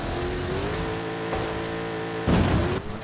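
A car engine in a racing video game, a steady mid-pitched drone with rising tones, then a brief louder burst of revving toward the end.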